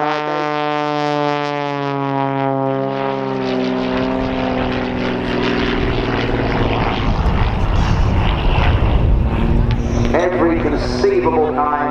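An Xtreme Air XA41 aerobatic propeller plane performing at an airshow, its engine drone shifting in pitch as it maneuvers, heard under continuous commentary over a loudspeaker.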